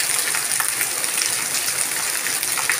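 Heavy rain falls steadily on a dark, overcast day, a dense, continuous hiss and patter close by with no pauses.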